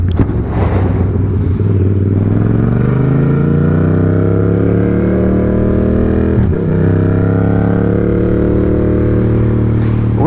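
A motorcycle cruises along the road, its engine a loud steady drone with rising and falling pitch as it shifts and accelerates, heavy wind rush underneath throughout.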